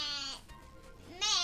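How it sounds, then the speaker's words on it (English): A goat in Link's Awakening gives two short, synthetic-sounding bleats, one at the start and one at the end, separated by a brief lull and heard alone. "Sound like a goat."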